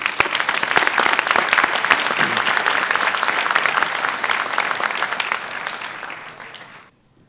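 A large audience at a high school senior awards night breaks into loud, dense applause that holds steady for several seconds before fading out.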